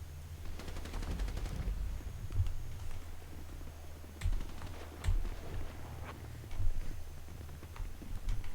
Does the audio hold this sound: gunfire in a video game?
yes